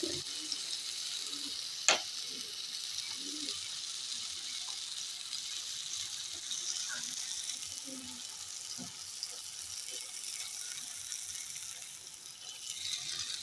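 Bread pizza topped with capsicum, onion, tomato and a little butter cooks in a pan over low heat, giving a faint continuous sizzle with occasional soft clinks and scrapes while someone talks.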